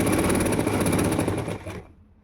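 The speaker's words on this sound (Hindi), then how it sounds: "चलिए शुरू करते हैं सिलाई लगाना इस तरीके से।" A sewing machine stitching a seam on palazzo pants, a close, steady whirring run that slows and stops near the end.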